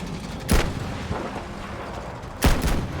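Two loud sniper rifle shots ring out in Battlefield V, about two seconds apart, each a sharp close crack with a short rumbling tail over steady battlefield ambience.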